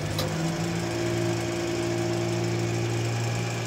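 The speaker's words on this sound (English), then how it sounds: "now I'm ready to start the PTO and do this meter creep test" A truck engine idles steadily while driving a PTO-driven pump for a meter creep test, giving a continuous low, even drone with no change in pitch, heard alone without talk.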